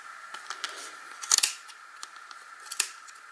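Snipping through a thick bundle of wool yarn wound on a jumbo pom pom maker, with a steady run of soft scissor cuts and a couple of louder, crisper snips standing out, close and alone.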